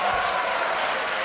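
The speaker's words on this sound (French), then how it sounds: "Ça s'applaudit." Crowd clapping at a tournament final awards ceremony, a continuous rustling spread of applause from an audience, fairly even in level throughout.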